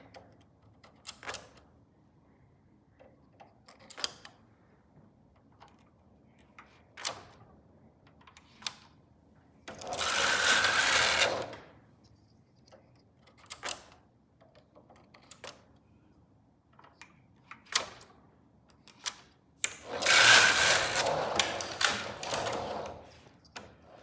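Silver Reed knitting machine working net jacquard stitches: scattered sharp clicks and ticks across quiet gaps, with two longer loud rasping sweeps of the carriage across the needle bed.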